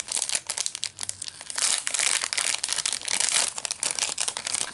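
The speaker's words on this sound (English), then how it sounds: "Apologize for the crinkling," Plastic bags of a paper card kit crinkling and crumpling steadily up close, a continuous dense rustle with no talk.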